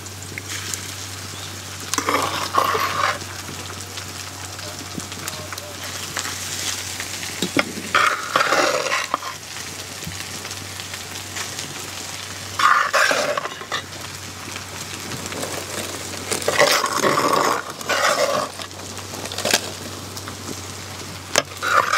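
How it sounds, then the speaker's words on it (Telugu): Precooked rice tipped into a pan of cauliflower and stirred, giving repeated bursts of scraping and sizzling over a steady frying hiss, with light clinks of utensil on metal and no talk. "అలాగే ముందుగా వండుకున్న రైస్ కూడా వేసుకుంటున్నాను."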